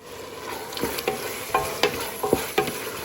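Mutton for biryani cooks in a pot as tomatoes go in, a low frying sizzle broken by a series of sharp spoon scrapes and clinks every half second or so, close and fairly loud.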